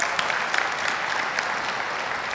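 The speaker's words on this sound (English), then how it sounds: "round of applause" An audience at a technical presentation gives a round of applause, a soft, even wash of many hands clapping that stays steady throughout.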